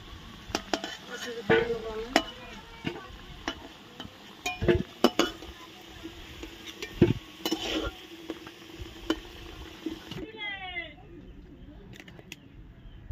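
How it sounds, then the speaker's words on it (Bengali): Potatoes fry in oil with a soft sizzle while a utensil scrapes and clinks against the pan in irregular strokes, close up, with a short bird-like chirping burst near the end. "আলুটা আমাদের ভাজা হয়ে গেছে।"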